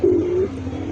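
Pigeons coo at close range in a loft of fancy breeds such as Bokhara and Andalusian, one low rolling call sounding clearly for about half a second before fading into a soft murmur.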